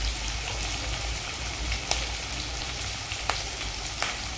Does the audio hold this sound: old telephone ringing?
no